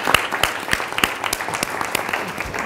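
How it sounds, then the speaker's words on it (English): An audience at a university international affairs symposium applauds, a dense burst of many hands clapping in a hall, steady and fairly loud through the short stretch. "huge round of applause for great questions and super answers"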